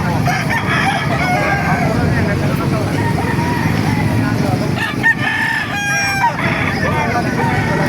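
Roosters crow and chickens cluck nearby amid a busy outdoor din with passing engines at a chicken market in Calumpit, Bulacan.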